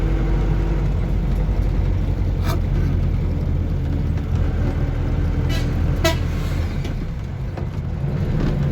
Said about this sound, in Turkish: korna çaldık